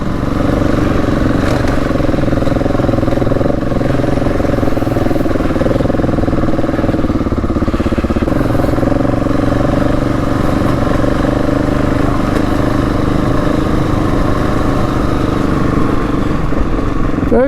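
A Husqvarna 701 Enduro motorcycle pulls in second gear off-road, its single-cylinder engine droning loud and steady at close range throughout, with faint mechanical clatter.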